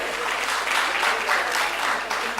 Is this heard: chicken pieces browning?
no